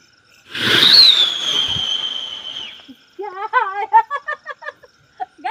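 A Diwali firework goes off in a courtyard with a loud whistling hiss that lasts about two seconds, then stops. Close giggling laughter follows in short bursts.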